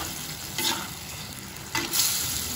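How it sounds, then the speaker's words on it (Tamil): Sri Lankan-style pineapple curry with coconut milk stirred in a pan as it simmers: a steady soft sizzle and bubbling with a couple of brief scraping stirs, close, with no speech. "இப்போ நல்லா மிக்ஸ் பண்ணி விட்டுட்டு ஒரு 2 நிமிஷம் கொதிக்கட்டும்."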